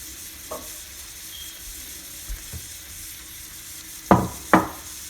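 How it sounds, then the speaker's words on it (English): Crushed garlic heating in melted butter on low heat, a soft, faint sizzle throughout, punctuated by a few brief knocks and two louder clacks of a utensil against the pan near the end. "Just add in your crushed garlic. And let it heat up and infuse into it for about 5 minutes on low heat."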